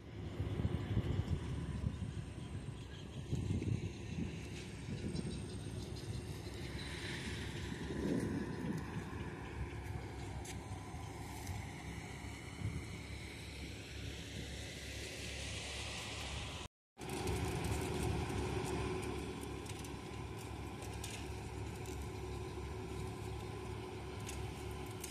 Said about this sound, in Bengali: তো লঞ্চ প্রায় চলেই এসেছে আমাদের কাছে।